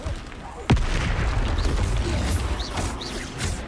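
A Bombarda explosion spell from the video game Hogwarts Legacy lands with one sharp, booming blast near the start, followed by a rumbling, busy stretch of game effects.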